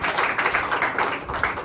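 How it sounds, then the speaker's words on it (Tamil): Church congregation during a sermon clapping hands together, a short spell of rhythmic, fairly loud claps close by with no talking. "கைத்தட்டுங்க"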